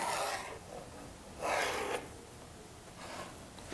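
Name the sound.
pencil drawing a line on wood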